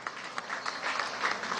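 A crowd claps for schoolchildren at an outdoor education event, a steady, moderately faint patter of applause with no voices over it.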